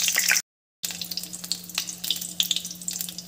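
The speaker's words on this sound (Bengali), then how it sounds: "এবার ওই তেলের পরে দিয়ে দেবো শুকনো লঙ্কা, আর দিয়ে দেবো দারচিনি আর এলাচ" Dried chili, cinnamon and cardamom sizzle in hot oil with a close, crackling hiss and scattered pops, a steady low hum beneath, broken once by a short silent gap.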